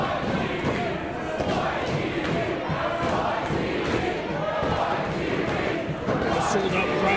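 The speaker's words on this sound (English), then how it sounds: "A sold-out crowd here at the Longboat Hall showing their respect for PJ Phil" A sold-out crowd fills a wrestling hall with a dense, continuous roar of cheering and shouting, steady and loud throughout, with a commentator's voice talking over it.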